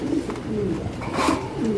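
Short-piece pigeons on a farm coo in rolling, overlapping low calls, close and fairly loud, with no talk over them.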